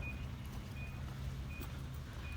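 A truck's reversing beeper sounds outdoors on a hot day, giving short high beeps at regular intervals over a steady low rumble of traffic.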